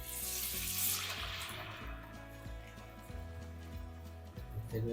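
Quiet, steady sizzling of vada frying in hot oil in a wok, a continuous soft hiss over a low hum.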